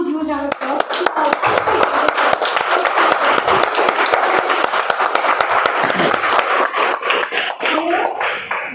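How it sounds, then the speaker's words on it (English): Audience applause for a recognition at a speech contest, loud nearby hand claps with distinct sharp individual claps in a rapid irregular patter, lasting throughout with children's voices and chatter mixed in. "Please give a huge round of applause."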